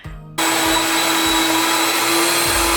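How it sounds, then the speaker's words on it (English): Electric grain mill grinding fresh flour at home: a loud, steady motor roar with a constant whine kicks in abruptly after a short quiet moment and keeps running unbroken, close and dominant. "The mill is pretty loud,"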